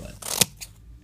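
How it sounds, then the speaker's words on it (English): Scissors cutting a strip of paper into small pieces, a single close, brief crisp snip with a faint follow-up rustle. "Then you're going to want to cut that into 4ths."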